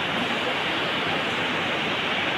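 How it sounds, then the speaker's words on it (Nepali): The Kali river rushes along the Nepal–India border at Darchula, a dense, steady wash of flowing water with no break and no speech. "आज भोलि सानो छ काली नदी"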